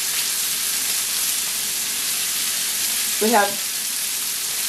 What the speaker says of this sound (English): I'm going to add butter, about a half a stick of butter, a couple cloves of garlic, and 2 sprigs of fresh rosemary to the pan